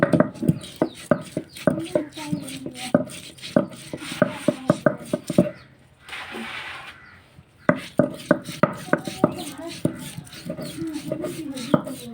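Ginger is ground by hand on a grinding stone in a home kitchen, making a close, steady rhythm of knocking, scraping strokes that pause briefly partway through and then resume.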